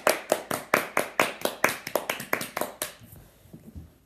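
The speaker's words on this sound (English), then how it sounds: "everybody clap your hands." Bare hands clapping in a children's clapping game, around a dozen close, crisp claps in a quick, regular rhythm that stop abruptly, leaving faint room noise.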